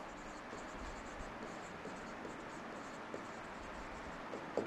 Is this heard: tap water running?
no